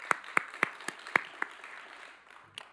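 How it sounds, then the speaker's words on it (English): A handful of people clap for a young essay writer at a youth council gathering, giving about six sharp, separate claps spread over a second and a half before they fade into quiet, with one faint late clap. "if we could just give her a round of applause"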